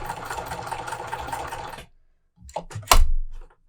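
A sewing machine stitches seams in cotton quilting fabric, running steadily for nearly two seconds before stopping, then a few short clicks and a louder thunk of handling follow.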